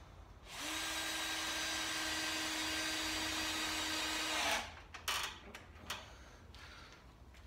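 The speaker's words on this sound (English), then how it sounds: "Having one drill to screw, another drill to countersink." A power drill whines steadily for about four seconds, then stops, followed by a few short, sharp bursts as it drives screws into wood while building shelves.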